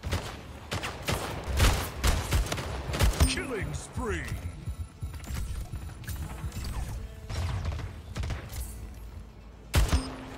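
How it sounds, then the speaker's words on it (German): Rapid gunfire from the online shooter Splitgate crackles in sharp bursts and single shots, mixed with mechanical clicks and whooshing game effects, loud and close, while a player talks over the action. "Dann wollen wir mal auf den Kopf schießen, wa?"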